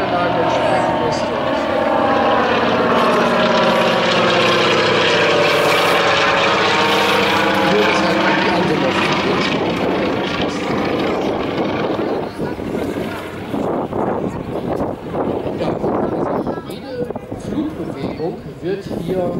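An Antonov An-2 propeller airplane towing a banner on its tail at the Hochheimberg gliding airfield drones loudly and steadily with wind buffeting, easing toward the end, while someone talks throughout.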